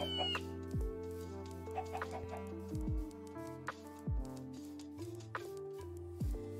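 Chickens clucking in Minecraft, with repeated short blocky clucks and descending low thumps spaced every second or so, close and clear with no talking.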